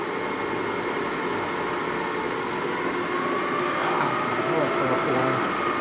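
A boring machine cutting a 1977-79 Harley FLH shovelhead 4-speed transmission part at about 900 RPM gives a steady, even mechanical drone with a faint whine, constant and unbroken throughout.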